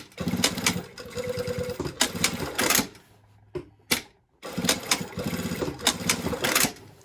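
A home sewing machine runs fast rhythmic stitching bursts while backstitching over a denim jeans seam near the yoke, stopping briefly mid-way with a couple of clicks before resuming, close and alone.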